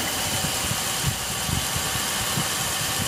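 An electric motor spins an elastic shaft at 1000 RPM, giving a loud, steady mechanical hum with a rough, fluttering low rumble underneath.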